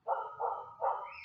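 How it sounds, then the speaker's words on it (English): A dog worked up by children playing next door gives three close, loud barks in quick succession, each drawn out, with a short high yelp at the end. "Had to put my dog up because some kids came out to play at the neighbors and she lost her mind."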